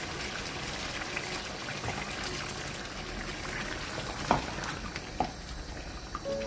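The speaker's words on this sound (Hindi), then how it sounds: "इस पॉइंट पे मैं इसमें पानी ऐड करने वाली हूँ।" Water pours steadily into a pan of simmering nargisi kofta, a soft continuous wash of liquid broken by a couple of light clinks.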